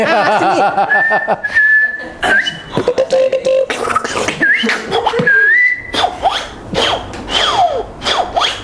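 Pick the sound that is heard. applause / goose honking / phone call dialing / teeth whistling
teeth whistling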